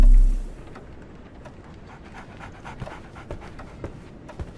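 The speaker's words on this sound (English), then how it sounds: "So, Barnes has a dog now." Dog panting in the video game Sherlock Holmes: The Awakened, a soft, steady breathy rhythm with faint rustling, following a brief louder burst at the start.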